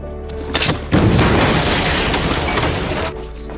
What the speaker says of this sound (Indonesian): tiba-tiba di bawah tempat sampah terdapat sebuah jebakan bom kejut yang membuat Mayor Jasim harus meninggal dun